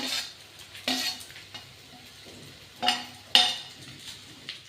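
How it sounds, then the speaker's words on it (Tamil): A pot of sambar cooking on the stove, with scattered soft bubbling and sizzling pops, plus a few louder clinks and scrapes of a utensil against the pot, fairly close. "இப்போ சாம்பார் கொதி வந்துருச்சு."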